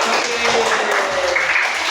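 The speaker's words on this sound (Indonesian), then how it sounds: "Tepuk tangan dan semangat" A classroom of students applauds together, a dense, steady burst of many hands clapping that holds at an even level throughout.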